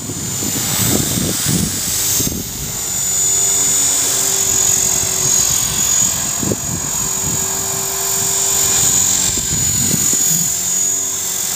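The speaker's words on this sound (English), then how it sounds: "But it's a great little helicopter." A small radio-controlled EXI 450 model helicopter hovers nearby with a steady, high-pitched electric whine and rotor buzz that holds constant throughout, with faint occasional thumps.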